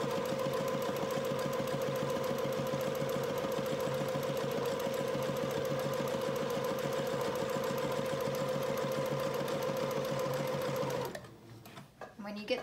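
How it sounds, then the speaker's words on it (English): A sewing machine runs a long basting stitch straight across the top of fabric for a child's apron, a steady rapid mechanical hum that stops near the end, followed by faint handling sounds. "we're going to use the basting stitch to gather it. So I'm going to go just straight across the top here."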